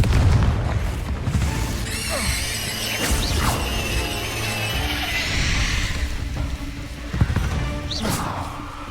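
A Confringo spell blast in Hogwarts Legacy, loud and close, with booming impacts, crackling bursts and a squealing magical whoosh layered over the game's music and effects, plus a short spoken shout.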